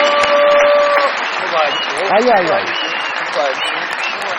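A TV show studio audience applauds loudly and continuously to welcome a prize winner. A host speaks briefly over the clapping, with some tonal sounds in the background.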